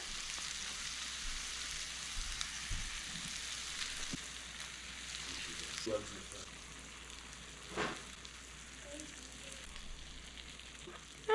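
Eggs fry in a pan over medium heat: a soft, steady, continuous sizzle with occasional light clatters, fairly quiet and without talk.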